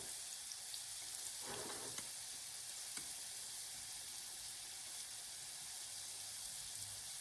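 Lattice-woven bacon fries in a pan for a Texas toast burger, a faint, steady sizzle with a few soft crackles and pops near the start.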